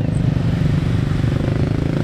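Motorcycles idle and rev in heavy traffic on a jammed Jakarta street near Monas during a Lebaran Betawi festival, a loud, close, continuous engine drone with a rough pulsing rumble.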